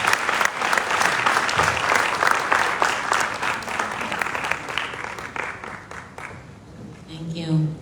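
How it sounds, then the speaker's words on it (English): A conference audience applauds as the World Bank country manager comes to the podium at a small and medium enterprises conference, with dense sustained clapping that fades out toward the end. "A round of applause, please."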